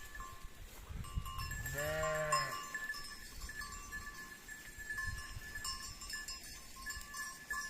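Sheep and newly born lambs just turned out to graze bleat outdoors on a cold village pasture, one clear drawn-out bleat standing out among faint distant flock sounds and soft background noise.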